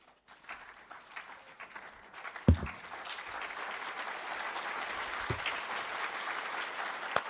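Audience applause at a health integration summit, starting faintly and swelling at about two and a half seconds into steady, dense clapping that carries on to the end, with a couple of sharp thumps near the start.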